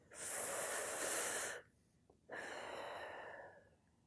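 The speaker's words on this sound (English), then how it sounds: "Now take a big belly breath." Two long, deep belly breaths, a breathy inhale of about a second and a half, a brief pause, then a slower airy exhale fading out, close and quiet with no talking.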